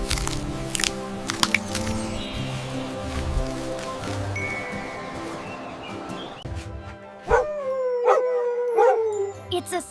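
A Siberian husky yips and barks repeatedly, then lets out several rising, wavering howls, close and fairly loud, over a musical backing.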